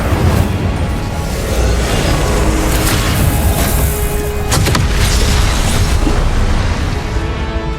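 A fire spell in Hogwarts Legacy blasts out in a loud, continuous roar of booming, crackling magic with sharp bursts throughout, dense and close.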